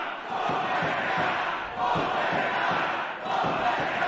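A wrestling crowd at an indoor event heckles in a loud, sustained roar of mixed voices and rhythmic shouting, with slight swells and dips, filling the space with no single voice standing out.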